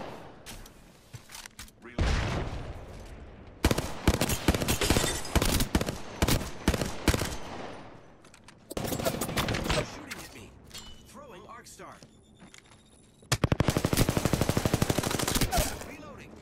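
Bursts of automatic gunfire from an Apex Legends match played as Pathfinder come in several loud, rapid volleys separated by short lulls, with sharp single shots and mechanical clicks between them.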